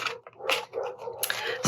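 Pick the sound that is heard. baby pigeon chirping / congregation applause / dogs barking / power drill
dogs barking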